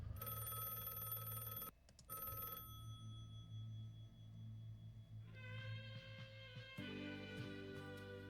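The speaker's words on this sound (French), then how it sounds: "celui qui a appelé au téléphone de la maison, c'était le Red Guys" A house telephone rings in a web series with repeated electronic tones broken by short gaps. Musical sounds shift beneath the ringing and rise in the final seconds, with no one speaking.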